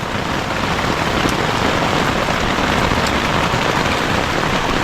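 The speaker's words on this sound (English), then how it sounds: "I thought it was gonna rain, but I didn't think it was gonna do this. I mean, it is storming." Heavy rain storm pounding on a tent while camping with an XR150L motorcycle, a loud, dense, continuous patter of drops on fabric with no pauses and no voices.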